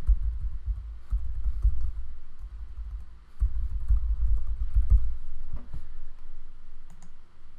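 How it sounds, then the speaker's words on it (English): Steady clacking of keys on a computer keyboard as a web address is typed, close and fairly loud, with brief pauses between runs of keystrokes and no talking. "type in the URL"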